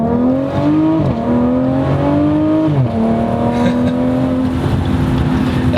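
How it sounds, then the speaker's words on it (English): An Audi SQ5 SUV revs hard through its gears, its engine note climbing in loud, close sweeps and dropping at each of two quick shifts, with sharp pops on the changes. "every time you go into the next shift, you get this loud pop"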